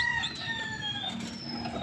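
A fighting rooster crows twice in close succession, loud and near, with a strained, harsh cock-a-doodle-doo over quiet farmyard background.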